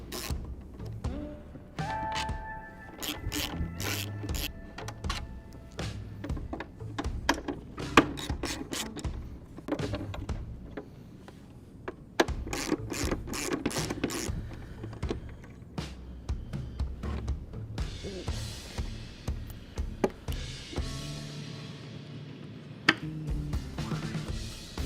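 Small metal clicks, ratcheting and rubbing as 3/16 Allen bolts are worked out of a Harley-Davidson Road Glide headlight, coming in irregular close bursts with short quiet gaps.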